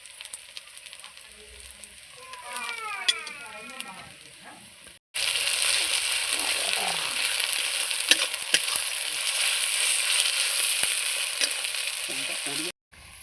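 Ginger-garlic paste dropped into hot oil with fried onions and green chillies, first a low sizzle with stirring scrapes, then a sudden loud, steady hiss of frying that runs on before cutting off.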